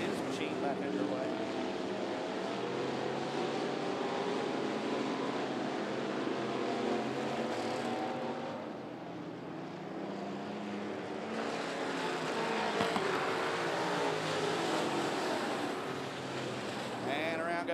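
Street stock race cars run on an oval track, their engines droning and whining through the whole stretch as they pass, mixed with the wash of crowd and a track announcer talking over them.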